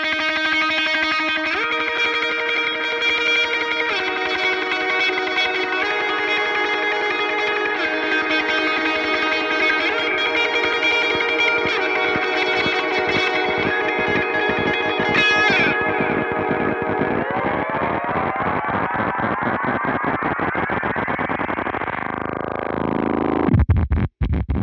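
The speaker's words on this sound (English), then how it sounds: "what I have going on is distortion into two delays into a reverb" Guitar run through a pedalboard of distortion into two delays and a reverb with feedback cranked, giving a dense, sustained wash of distorted, stacked repeating notes. It swells into a rising self-oscillating smear near the end, with no talking.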